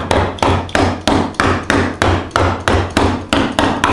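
Sharp metallic hammer blows strike a sheet of tin to bend it, about a dozen loud, evenly spaced bangs, each ringing briefly before the next, close and without speech.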